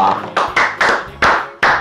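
Hand clapping, a few sharp, loud, close claps in an uneven rhythm, heard alone with no talking.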